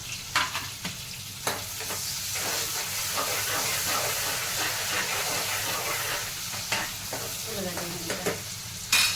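Chopped onion fries in hot oil in a pan with a loud, continuous crackling sizzle, close up, with occasional scraping knocks from stirring and no speech.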